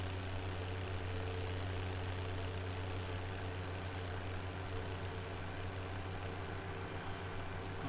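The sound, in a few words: tractor engine in a farming video game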